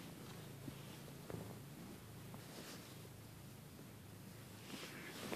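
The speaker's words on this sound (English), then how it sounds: "She's purring" A domestic cat purring very faintly and close by, a soft continuous low rumble with gentle rhythmic pulses, heard alone under quiet background noise.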